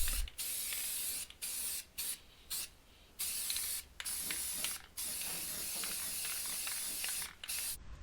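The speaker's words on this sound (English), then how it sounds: "With the primer dry, it's time to apply the paint." A spray can hisses in repeated bursts of varying length as paint is applied over dried primer inside the stripped cargo area of a Chevy Astro van, close and alone with short silent gaps between passes.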